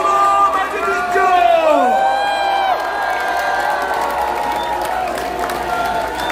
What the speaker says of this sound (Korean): 이재명 대통령의 연설을 뜨거운 박수로 맞이해주십시오